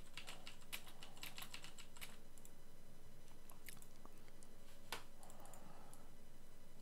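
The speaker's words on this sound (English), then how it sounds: "This is how the microphone will sound when I am typing a little on my keyboard too." Irregular light clacking of keystrokes on a computer keyboard, picked up through the microphone of a OneOdio A71D gaming headset, runs steadily for several seconds, fairly quiet and close with no talking.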